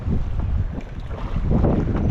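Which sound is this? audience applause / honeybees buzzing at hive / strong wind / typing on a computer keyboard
strong wind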